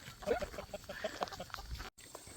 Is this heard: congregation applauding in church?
no